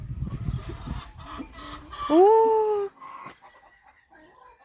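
Hungry chickens cluck and a hen lets out a drawn-out squawk nearby as eggs are collected, with a brief exclamation from a person among the farmyard noise.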